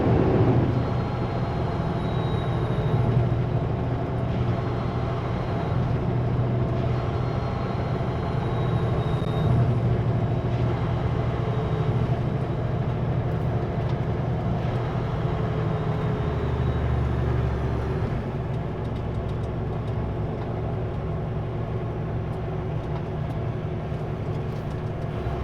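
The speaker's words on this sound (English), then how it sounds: "that truck is driving down that road" A truck drives down a road in a small town, a steady rumbling engine drone carrying throughout with faint hiss and rattle, moderately near and without speech.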